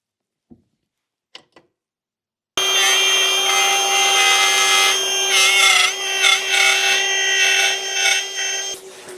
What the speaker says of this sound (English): Just quickly router these lugs down so that we can pop that in